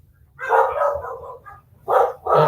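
A dog barks close by in a home, a long drawn-out bark followed by two sharp barks, loud and alone.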